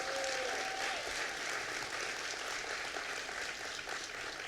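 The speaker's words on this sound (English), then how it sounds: "Give him a round of applause." Audience applause at a community center announcement by the governor, a steady dense wash of clapping from a large crowd held evenly throughout, moderately distant with no voices over it.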